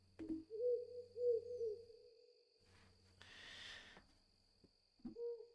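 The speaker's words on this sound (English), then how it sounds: "To owl noises." Owl hoots in the Touhou LostWord video game, several soft tonal calls in a steady rhythm over a low background hum, followed by a brief rushing noise and one more hoot near the end.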